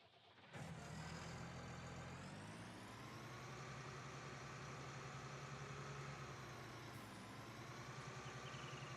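A large tractor idles steadily in a farming simulator shop yard, its engine a continuous dense drone that starts abruptly and holds at an even level with a slight rise and fall in pitch.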